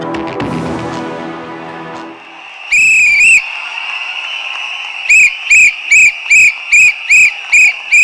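A political rally whistle blown by a party leader, heard as one sustained shrill blast followed by eight short, evenly spaced sharp toots, loud and close after a brief burst of music.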